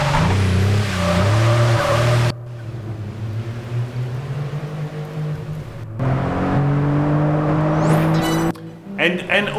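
Engine revs from a car in a racing video game, full-throttle tones climbing and shifting in pitch across several bursts with abrupt cuts between them, loud and close, with a possible voice mixed in.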